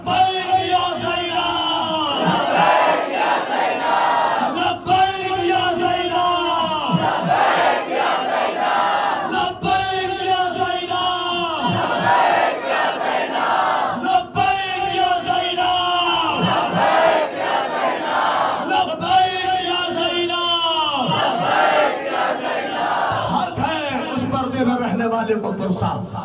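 Large Muharram procession crowd in Bhiwandi loudly chanting Labbaik ya Zainab in unison, repeated rhythmic bellowed phrases roughly every few seconds, dense and continuous with voices swelling together.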